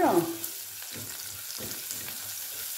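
Garlic fries in a pan, giving a soft, continuous sizzle with faint stirring after a short voice at the very start.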